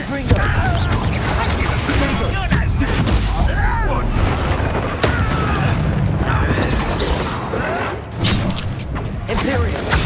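Confringo spell blasts in the Hogwarts Legacy video game burst amid a loud, dense wash of combat effects, booms and crashes, with voices talking throughout.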